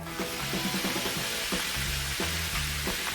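Ham and shredded hash browns cooking inside a closed waffle iron, giving a steady close sizzle and crackle with faint scraping, no talk.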